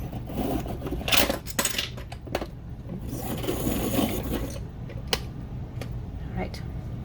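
A gray watercolor pencil tip being sharpened, giving a steady scraping, rasping sound in short bursts with small clicks, close up and under light background noise.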